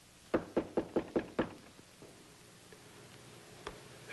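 Six crisp knocks on a door in a quick, even rhythm, close and distinct, then quiet room tone with one faint later tap.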